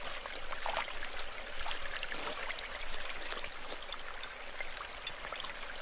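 A small creek flows at night in platypus habitat, a steady close wash of water with gentle trickles and splashes running continuously and evenly, with no voices.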